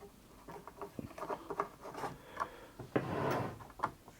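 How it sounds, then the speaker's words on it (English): Four screws go back into an '80s Singer Futura Electronic 2002 sewing machine, heard as close, quiet metallic clicks, scrapes and small taps in irregular bursts. "it's just a matter of putting these 4 screws back in"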